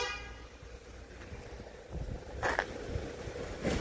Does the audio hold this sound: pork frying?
no